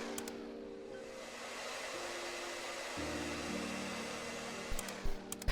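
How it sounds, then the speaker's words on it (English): A compressed-air blower in the cleaning game Undusted hisses continuously with a steady whooshing roar, shifting pitch slightly partway through, with a few small clicks near the end. "I want to use the air blower for this part here"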